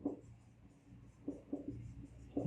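Writing on a board during a botany lecture gives soft, close scratching strokes in a few short bursts with quiet pauses between them, and no talking.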